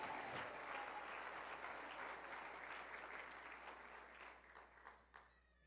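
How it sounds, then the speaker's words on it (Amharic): A church congregation claps together in a sustained burst of applause that holds steady and then thins out and fades toward the end, some distance away. "አጨብጭቡ።"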